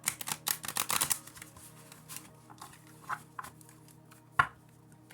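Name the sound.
shuffling a large deck of tarot cards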